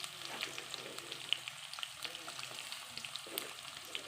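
Onions drop into a pan of hot oil with curry leaves, cooking over a wood-fired stove; a quiet, even frying hiss with small scattered pops and light stirring, heard close up with no talking.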